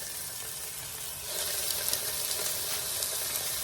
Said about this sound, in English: Joey's going to go in and place these patties into the pan. So you just want these to get browned on both sides.